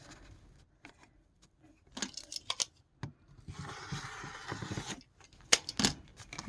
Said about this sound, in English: grab your ruler or add a quarter ruler and trim off any excess that you need